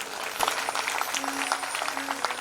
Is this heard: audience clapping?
yes